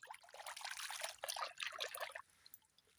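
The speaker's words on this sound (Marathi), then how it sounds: "त्याला तो धुवून दाखवतो तुम्हाला" Water trickling and splashing over a large crab as it is washed after being caught, a close, uneven flow that fades out near the end.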